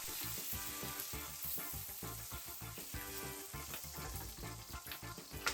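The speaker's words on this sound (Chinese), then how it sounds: "把彩椒下进去，翻炒几下，把彩椒炒熟" Bell peppers stir-frying in a wok, a dense continuous sizzle with steady crackle and scraping tosses, quiet but constant, no talk.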